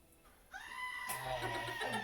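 A human voice imitates a goat's bleat, a nasal wavering cry that swells and holds for over a second, close and loud.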